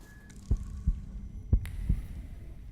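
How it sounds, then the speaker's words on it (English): A creepy, low double-thump heartbeat throbs in The Thaumaturge video game, two slow beats close and heavy over a soft hum, with no voices. "Creepy telltale heartbeat."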